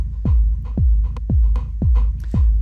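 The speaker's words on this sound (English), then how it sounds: "That convolution reverb is really nice" Ableton Live 11 convolution reverb on a rhythmic electronic part: deep throbbing pulses with downward sweeps, evenly spaced about twice a second, each with a reverberant tail, loud and without voices.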